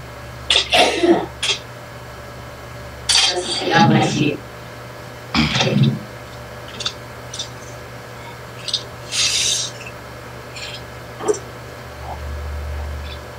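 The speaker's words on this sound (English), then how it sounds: "I sneezed." A sneeze bursts out in a home room, followed by a few more short breathy sneeze-like bursts and rustles, with people talking in between.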